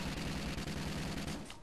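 Rapid automatic gunfire from Call of Duty: Ghosts Extinction, a dense, loud stream of shots firing almost continuously for over a second before thinning out at the end.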